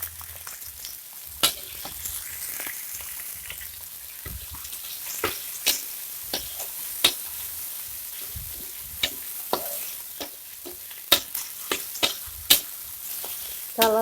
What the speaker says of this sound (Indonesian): udangnya kita masukkan.